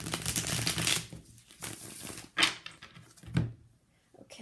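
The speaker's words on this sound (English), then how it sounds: "So let's shuffle a little bit." A deck of tarot cards is shuffled in several short, crisp riffling bursts separated by brief pauses, heard close up with no talk.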